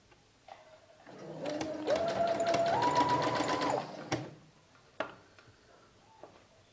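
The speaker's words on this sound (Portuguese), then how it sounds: "Dou um retrocesso e continuo costurando, unindo o viés novamente." Domestic sewing machine stitching bias tape onto a tea towel, starting with a short whir, then a steady, close, rapid mechanical run of about two seconds that rises slightly in pitch, then stopping with a few sharp clicks and taps.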